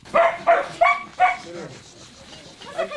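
Dogs barking during a family's evacuation with their animals near Kramatorsk, several sharp close barks in quick succession followed by softer whimpers and yips, with a voice audible underneath.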